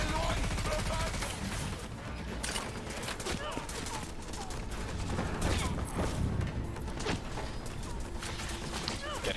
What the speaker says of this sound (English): Just lock onto the targets and let the bullets do the work